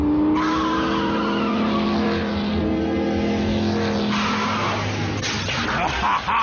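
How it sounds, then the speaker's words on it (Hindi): In an animated Transformers Prime episode, a car engine revs loudly as tires skid and squeal, a continuous close roar with shifting pitch that runs the whole time. "मैं इस इंजन की आवाज को अच्छी तरह पहचानता हूं।"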